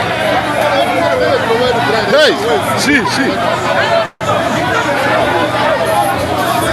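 Dense crowd chatter fills a Lagos Island street, a constant babble of many voices with occasional louder shouts, broken by a brief moment of silence near the end; a voice speaks over it.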